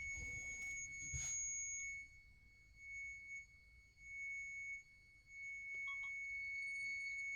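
A steady, thin, high-pitched tone hums from an orgonite Rodin coil driving strong magnets, sustained and close with faint background rustle and a brief knock early on.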